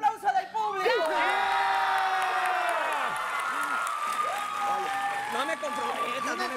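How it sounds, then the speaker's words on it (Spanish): A party crowd bursts into applause with loud whoops, cheers and excited shouting voices, lively and close throughout. "¡Un aplauso del público!"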